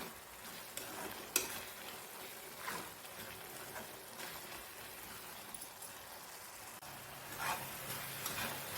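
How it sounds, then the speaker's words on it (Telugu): Grated carrot halwa frying and being stirred in a pan, giving a quiet, continuous sizzle with soft, irregular scraping strokes, close but low in level, with no talk. "ఇది మొత్తం దగ్గర పడిపోయేంత వరకు ఇలా వేయించుకుంటూనే ఉండాలి."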